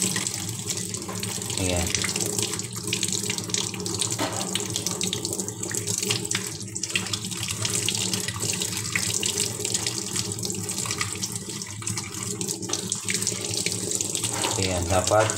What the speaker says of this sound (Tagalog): dapat continuous yung labas ng tubig